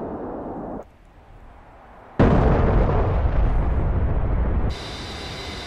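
A loud, booming Maverick missile explosion in the flight simulator DCS World, fired from an A-10C Warthog, bursts in after a brief lull, followed by a sustained roaring rumble that drops to a quieter hiss.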